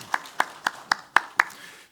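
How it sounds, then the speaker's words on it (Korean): A church congregation claps during a Sunday worship service in six even, sharp claps, moderately close and fairly quiet, with no talk. "박수하겠습니다."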